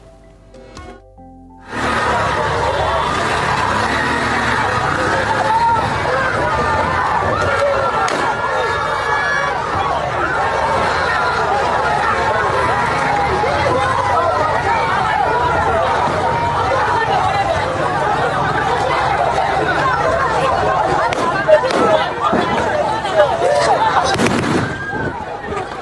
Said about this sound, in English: the agents fired warning shots in an attempt to disperse the crowd, sparking panic and injuries